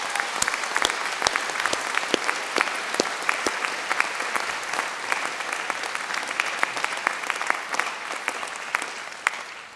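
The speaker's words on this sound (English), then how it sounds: "giving a huge round of applause to everyone who's supported you" Sustained, loud applause from a large crowd at a graduation ceremony, dense clapping filling the room continuously for about ten seconds.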